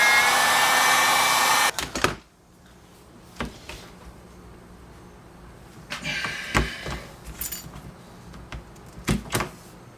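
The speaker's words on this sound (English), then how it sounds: "I'm going to just see if I can melt it down with the old heat gun and just push it into place" A heat gun blows loudly and steadily for about two seconds while melting HDPE plastic, then cuts off, leaving faint handling clatter and a few light knocks and taps on the plastic.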